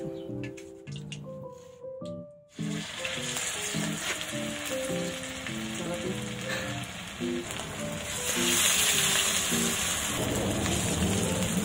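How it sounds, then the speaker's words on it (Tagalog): Pork chops fry in hot oil with a steady, dense sizzle like rain, rising louder toward the end, after some brief music-like tones at the start. "So, ito na, iprito na natin itong pork chop."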